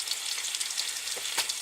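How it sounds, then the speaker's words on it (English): Food hits a hot cast iron skillet and sizzles with a steady bright hiss, and a couple of soft taps from flipping break through near the end. "Flip them over."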